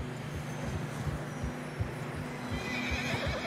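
A horse in Red Dead Redemption 2 being ridden, steady hoofbeats thudding in a rhythmic gallop under a bed of outdoor ambience, with a faint neigh near the end.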